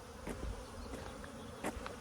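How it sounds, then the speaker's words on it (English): Honeybees buzz faintly in cool weather, a soft drone with occasional louder passes as individual insects fly close by. "I am so surprised that these bees are flying so well"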